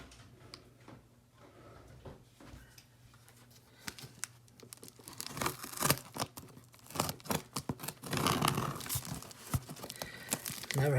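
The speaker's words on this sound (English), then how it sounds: "Let me get something to cut this box open." Cardboard packaging of a Kingtoo CM2020R single-serve coffee machine being cut and torn open, with crinkling, scraping and tearing noises that start quietly and grow louder and busier in the second half, close by.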